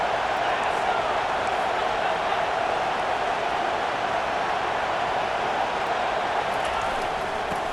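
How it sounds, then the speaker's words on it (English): A stadium crowd roars in EA Sports College Football 25, cheering to help its defense: a continuous, loud, even wall of noise with no breaks. "It is getting loud as this crowd tries to help its defense"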